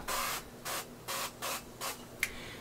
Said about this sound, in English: Now I'm just giving this a spritz of some olive oil spray.